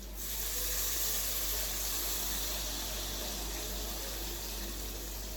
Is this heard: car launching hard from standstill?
no